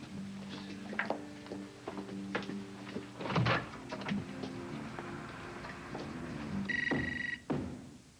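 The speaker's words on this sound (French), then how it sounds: "j'ai failli pas entendre le téléphone" An indoor telephone rings once in a short, bright trilling burst near the end, after some faint knocks and ticks in a quiet room, in a French-language television drama scene.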